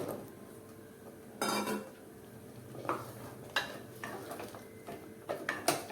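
Drumsticks are stirred into gravy in a pot, with a spoon scraping and knocking against the metal in several distinct clanks spread between quieter stirring.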